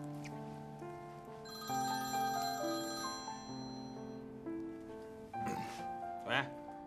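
A telephone rings with a melodic electronic ringtone, a repeating pattern of bright tones running for several seconds at moderate level, with a couple of brief rustles near the end.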